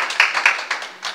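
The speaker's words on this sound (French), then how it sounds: "On applaudit le Seigneur." A church congregation claps in a brisk, uneven patter during a service, close and steady for about a second with no speech over it.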